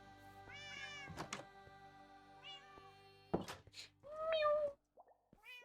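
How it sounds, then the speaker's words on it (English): A cat meows in a game scene, several drawn-out tonal cries spaced across the moment, with a louder, longer meow near the end over a quiet background of soft tones and thumps. "Ooh, a cat."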